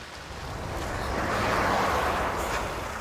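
Steady rain falls across a barren, industrial stretch of road during a marathon run, heard as a continuous broadband hiss blended with wind, with no voices.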